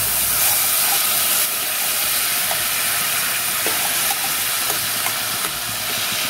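Water splashed onto hot spices and Kashmiri red chili powder in a pan for a brinjal and bori curry sets off a loud, steady hiss of sizzling steam that runs unbroken and close, with no voices.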